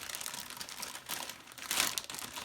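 Plastic bag holding vacuum cleaner accessories for a Henry 160 Numatic hoover crinkles and tears open in quick, faint rustling bursts up close, with a louder rip near the end and no talk.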